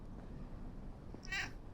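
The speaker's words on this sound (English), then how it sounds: "I want my audience to hear the cat." A pet cat gives a single short meow near the end, fairly faint over a low background rumble.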